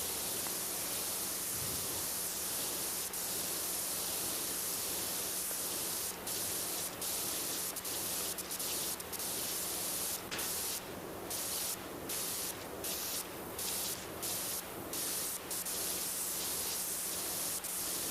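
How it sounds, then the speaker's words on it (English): A pressure washer in PowerWash Simulator 2 sprays a sign with a continuous loud hiss of water jet, steady and close, with brief rhythmic interruptions toward the end as the spray cuts in and out. "we're going to spray this sign a little bit while we're at it"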